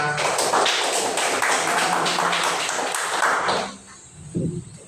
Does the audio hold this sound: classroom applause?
yes